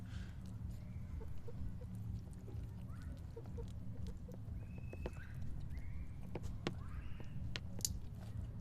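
Chickens cluck and peck while eating cottage cheese, with soft scattered clucks and short calls over a steady low background rumble, moderately close.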